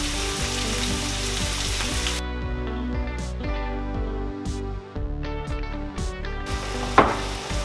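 White wine hits a hot pan of sautéing onions and peppers and sizzles loudly, steady crackling frying, briefly bursting louder as the liquid goes in.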